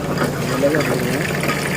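Water splashing and streaming steadily into a cooking pan of chicken curry gravy, a continuous wet gush under faint background voices.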